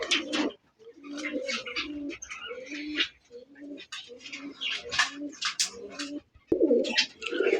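Domestic and foreign pigeons at a Bangladeshi loft coo repeatedly in low, rolling phrases, several birds overlapping close by with steady rhythm, with a brief pause near the end before a louder burst.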